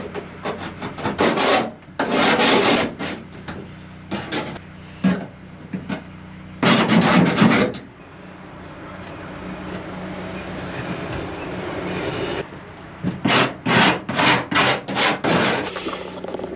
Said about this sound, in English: I'm going to sand these off, get these looking a little bit nicer